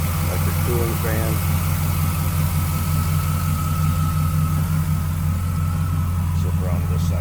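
A 1939 Buick Coupe street rod's engine idles smoothly and steadily up close, a low even hum with a faint whine, while someone talks over it.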